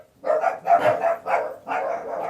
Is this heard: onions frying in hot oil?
no